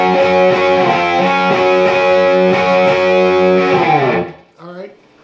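Distorted electric guitar playing the intro of a song: repeated loud, sustained chords struck in pairs with slides, ringing then cut off, followed by a brief voice.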